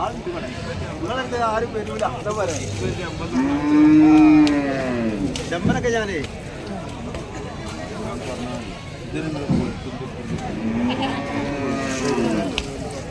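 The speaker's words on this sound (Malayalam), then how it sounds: "ഞാൻ പറഞ്ഞ ഫുള്ള് പോത്തുകുട്ടികളാണ്" Young water buffalo calves at a busy outdoor cattle market, several drawn-out moos and bellows rising and falling, one loud and close, over a steady murmur of crowd chatter and people talking nearby.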